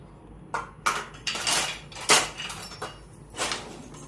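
A bowl clinks and knocks against utensils as curd is spooned into it in a home kitchen, several sharp close clatters and scrapes in a short irregular run.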